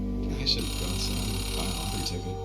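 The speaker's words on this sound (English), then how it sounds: "Payphone ringing in the wild?" An outdoor payphone rings in the video game Oxenfree II, with two or three faint repeated rings behind a steady ambient hum while someone talks over them.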